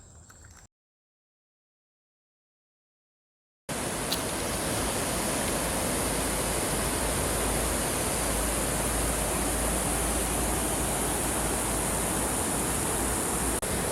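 The Sarapiquí river flows with a dense, even rushing roar that starts abruptly after a short silent gap and continues unbroken and loud.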